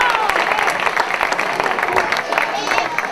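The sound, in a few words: audience applause at football club party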